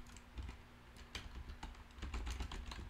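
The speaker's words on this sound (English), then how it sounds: "I just go to Google and I type in Moz keyword" Steady typing on a computer keyboard, a fast run of close, light key clicks and taps that continues throughout with no speech.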